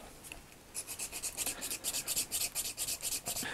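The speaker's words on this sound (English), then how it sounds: "I've sort of sanded down this curved edge here, just so there's a little bit more sort of leeway for rotating everything around" Edge of a plastic Transformers G1 Sharkticon toy part being sanded by hand, a quiet run of quick, rhythmic rasping strokes starting after a brief pause, close up and alone.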